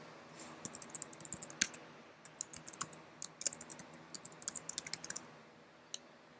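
Fingers type on a computer keyboard nearby in quick, uneven bursts of light clicks, with brief pauses between words and a few isolated taps toward the end.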